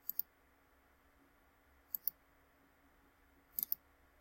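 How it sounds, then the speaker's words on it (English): Sharp computer keyboard clicks, most likely the enter key, come in three quick pairs, the last a triple, spaced about two seconds apart over a faint steady background hum, with no talking. "And what we're going to do is just hit enter."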